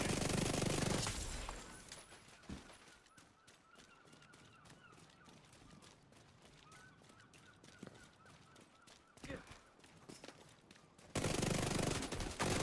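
Gunfire in The Division 2 video game, a rapid train of automatic shots ticking steadily through the middle, fairly quiet, framed by louder bursts of noise at the start and end.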